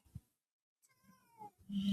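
A cat meows a few times in a quiet room, one short call and then longer drawn-out meows, the last loudest and closest.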